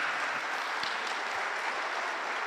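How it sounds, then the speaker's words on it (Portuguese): A church congregation applauds in praise, a steady, dense roar of many hands clapping together, loud and continuous with no talk over it. "Vamos aplaudir ao Senhor por isto."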